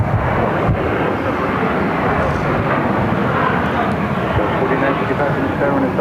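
A jet taking off from runway 7 left at Phoenix roars steadily and loudly, a broad, constant engine rumble mixed with wind noise and no breaks across the whole stretch.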